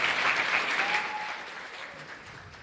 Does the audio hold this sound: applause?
yes